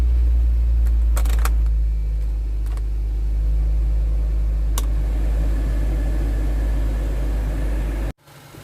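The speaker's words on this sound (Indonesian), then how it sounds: "Mula-mula hidupkan mesin dan nyalakan AC dan fan-nya." A Nissan Grand Livina's engine idles with a steady low rumble, its air conditioning and fan running, close and constant with a few faint clicks, cutting off abruptly near the end.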